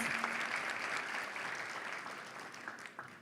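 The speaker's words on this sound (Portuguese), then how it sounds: "Vamos aplaudi-lo, ele está vindo com a professora, Vera Lúcia Alves." An audience at a writing and drawing prize ceremony applauds as a winner comes forward with his teacher, steady dense clapping held at a moderate level throughout and easing off slightly near the end.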